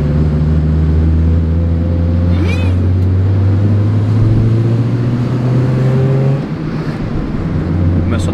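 A car engine misfires and stumbles while driving, a steady low drone with rough, uneven pulses and a brief dip near the end; the car has worn shock absorbers, heard from inside the cabin with people talking over it.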